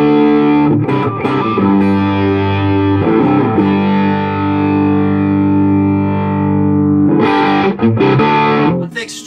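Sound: distorted electric guitar through Quarterhorse 25W Microamp, drive treble off

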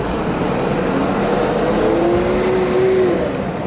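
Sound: 1973 Mercedes-Benz W108 280SE engine revving

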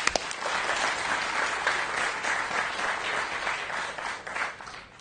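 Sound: audience applause at quiz competition

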